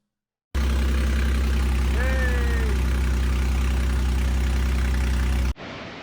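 The swapped engine in a Jeep JK cranks and catches abruptly, then settles into a loud, steady idle with a deep rumble that holds for about five seconds before cutting away.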